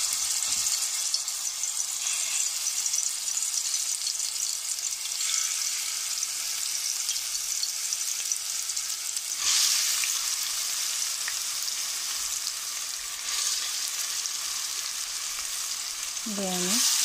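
Garlic frying in hot oil for a fish and potato curry, a loud, steady close sizzle throughout with a couple of brief stirring scrapes and a short squeak near the end.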